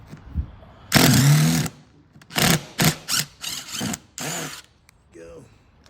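A power drill bores out old screws along the upper belt line of a Monaco RV, running in several short whirring bursts of varying length, close and fairly loud, with a few brief pauses between.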